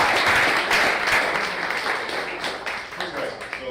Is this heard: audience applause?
yes